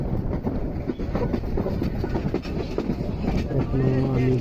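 Riding inside a train just departed from a Dhaka station, a steady rumble and clatter of wheels runs throughout, with people talking over the noise.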